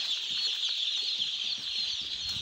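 Day-old chicks in a poultry brooder cheep continuously in a dense, high-pitched chorus, many birds peeping at once at steady close range, with no talk.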